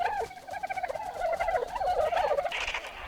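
Agitated birds at their nest giving loud, rapid gobbling calls close by, several voices overlapping in a continuous agitated chatter with no talk.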